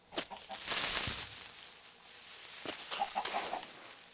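A chicken in the video game Minecraft gives a few short clucks, close and fairly faint, in two brief bursts separated by a pause.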